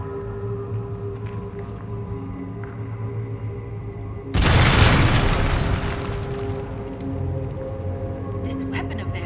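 In the video game Dragon Age Inquisition, a weapon blasts through a barrier with a sudden loud boom that rolls into a roaring rumble and slowly fades. A low ambient drone plays before and after.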